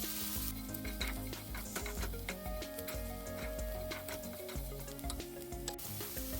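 Paneer with an onion and gongura mixture fries loudly in a pan, with constant sizzling and crackling broken by the scrape and knock of a spatula stirring, close up and with no talk.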